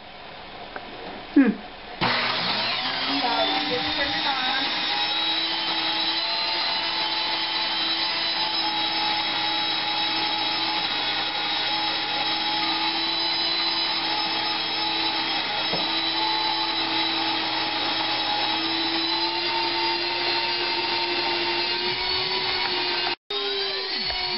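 An electric grain mill grinds dry wheat with a steady, loud, high whining drone that holds for over twenty seconds after a short startup, dropping out only briefly near the end.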